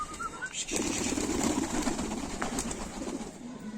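Pigeons coo softly in low, rolling murmurs close by, a continuous throaty burbling outdoors under a faint background hum, with no talk.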